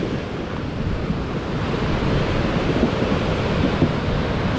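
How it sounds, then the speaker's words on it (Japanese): Rough waves on the Arabian Sea along the coast of South India crash and wash in a continuous loud surf roar, with wind buffeting the microphone and no voices. "波めちゃめちゃ荒いな。"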